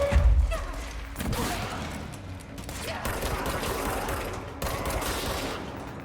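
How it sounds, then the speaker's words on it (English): Enemies fire guns in the game Control, a dense continuous volley of gunfire and impacts that rumbles loudly throughout, opening with a heavy thump. "there's a whole bunch of people shooting at me"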